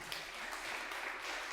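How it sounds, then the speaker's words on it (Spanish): Brief burst of applause from a church congregation during a Spanish-language sermon, a soft wash of clapping hands at moderate distance with no voice over it. "Dele un fuerte aplauso al que vive."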